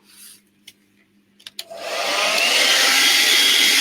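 A few small clicks and taps, then a hair dryer switches on and blows a loud steady rushing whoosh over a gel print for the remainder.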